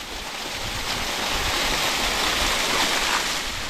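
A mountainside waterfall next to a lay-by on a road through the Klein Karoo up the Swartberg Mountains, heard as a steady, loud, unbroken rush of falling water with no talk over it.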